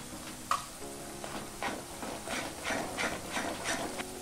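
Chopped green chilli, ginger and coriander stems sizzle in a pan while a spoon stirs them, giving a steady hiss with rhythmic scraping strokes close by.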